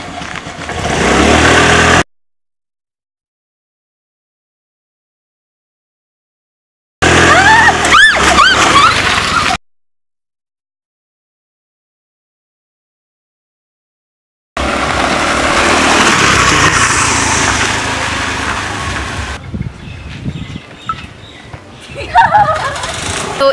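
A Sri Lankan auto rickshaw's small engine cranks and catches in short bursts separated by silences, then settles into a loud, buzzy idle with some rattling, and a voice speaks briefly over it.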